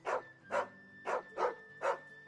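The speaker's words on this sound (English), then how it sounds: "Hey, look! Another pooch." A dog in the Final Fantasy XVI video game barks five times in an even rhythm, each bark clear and moderately close against a quiet background.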